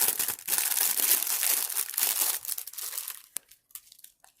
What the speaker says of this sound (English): Tear the bag.